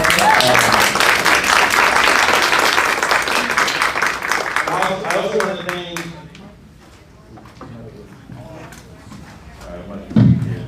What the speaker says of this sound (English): I think this deserves like a round of applause from all of us.